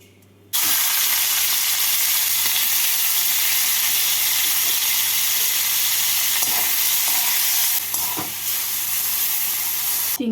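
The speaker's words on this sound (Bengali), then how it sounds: "কড়াইতে অল্প সাদা তেল দিয়ে চিংড়ি মাছগুলোকে ভেজে নেব" Prawns fry in a little white oil in a kadai: a loud, steady hiss bursts in after a brief quiet moment and holds close, with occasional faint clicks of stirring and no speech.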